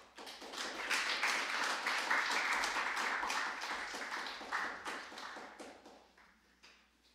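A church congregation at a Wednesday worship service gives a big round of applause to welcome a visiting pastor. Many hands clap in a dense, bright patter that swells quickly, holds, then thins out and fades toward the end.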